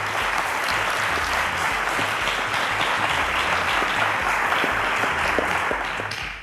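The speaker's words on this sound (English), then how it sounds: "A round of applause to our 6 contestants once again." A studio audience at a televised school quiz show applauds the contestants with dense, sustained clapping that holds steady at full strength for over six seconds before cutting off.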